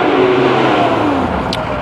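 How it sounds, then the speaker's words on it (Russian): A car engine hums loudly and steadily at close range, a continuous drone with faint rising tones and a brief high hiss near the end. "Машина сильно гудит."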